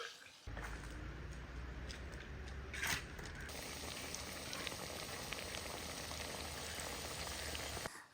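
Fish pieces frying in oil for a Kerala-style fish pickle, a continuous dense crackling sizzle at close range, with a short louder stir partway through.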